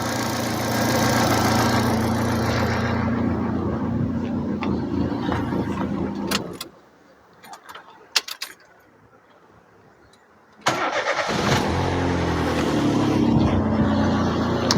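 Opel Corsa 1.4i engine idling steadily and loud for several seconds, then cut off into near silence with a few clicks and knocks, before it fires up again and settles back into an even idle.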